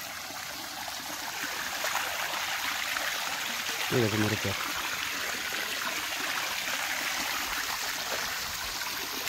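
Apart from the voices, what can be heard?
water flowing down a small waterfall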